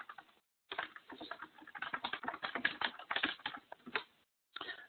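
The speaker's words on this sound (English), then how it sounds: "we'll click one more time to position the text and start typing" Rapid clatter of computer keyboard typing, close and steady, in short irregular bursts with brief pauses, used to enter text in Bluebeam Revu software.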